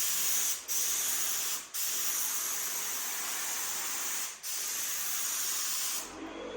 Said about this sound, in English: Laying it down, I'm spraying a little bit down on the side, a little bit up on that edge.